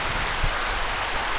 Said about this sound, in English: We have this creek right out in front that's feeding into